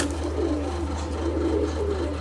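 Pigeons cooing softly and continuously as a low, steady murmur, with no voices over it.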